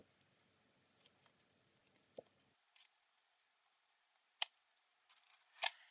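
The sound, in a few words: scissors trimming casing material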